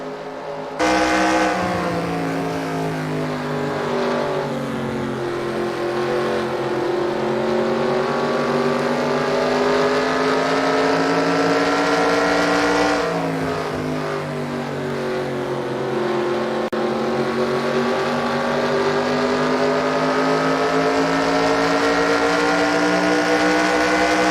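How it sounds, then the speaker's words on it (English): A Toyota Camry stock car laps Richmond in a NASCAR-style racing video game, its engine droning loud and continuous with the pitch sweeping down and back up through corners, with no voices. "as you listened to the engine under the 71, only one word popped up in my mind: tiptoe"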